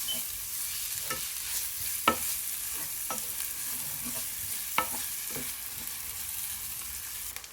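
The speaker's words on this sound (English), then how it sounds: "Add in 2 chopped onions and cook them until they turn translucent." Chopped onions fry in oil and ghee, giving a steady soft sizzle with a few clicks and scrapes from stirring. The sound is quiet and close, with no voices.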